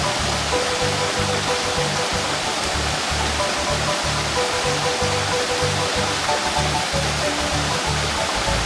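Waterfall cascade at a research station in Nicaragua, a loud, constant broadband roar of falling water with no break, joined by a faint rhythmic low pulsing underneath.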